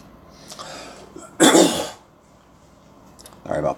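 A person with a sore throat coughs and clears their throat, one loud close burst followed by a shorter rasp, between quieter breathy sounds.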